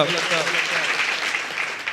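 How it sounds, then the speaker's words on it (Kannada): Devotees at the closing ceremony of a long pilgrimage walk clap loudly and continuously, a thick steady roar of hands, with a voice briefly audible at the start. "ಜೋರಾಗಿ ಚಪ್ಪಾಳೆ ತಟ್ಟುವ ಮೂಲಕ"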